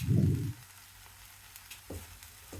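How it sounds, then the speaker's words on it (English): Tomatoes and tamarind land in a hot pan with a short loud splash of sizzle. Softer frying follows, with a few light stirring clicks and no voices. "Now same pan, add tomatoes half cup, tamarind half inch, salt as per taste."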